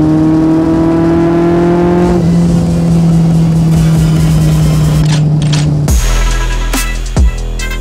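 A loud engine of a 1980 superbike motorcycle revs hard nearby, its pitch climbing and holding before dropping sharply near the end.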